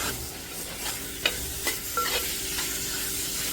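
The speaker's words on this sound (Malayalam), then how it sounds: "ചിക്കൻ ഇട്ടതിന് ശേഷം നല്ലോണം ഒന്ന് ഇളക്കി സെറ്റാക്കി വെക്കുക" Chicken being stirred in a frying pan for kizhi porotta, a steady soft sizzle broken by several distinct scraping and clinking strokes of the spoon against the pan.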